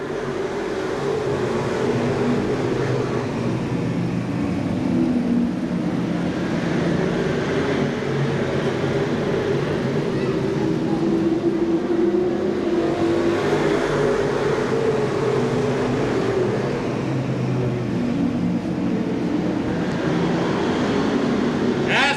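Stock cars race at Seekonk Speedway during a 1994 event, a steady loud broadband engine roar that swells and fades as cars pass, continuous throughout with no clear voices.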